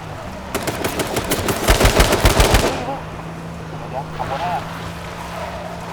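Rapid automatic gunfire in the battle-royale shooter H1Z1 King of the Kill: a dense, loud burst of shots for about two seconds, then a vehicle engine hums on while players talk excitedly.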